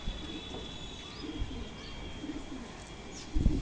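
Double-banded female pigeons coo in a soft, low murmur with faint chirps, ending in a brief thump of nearby handling.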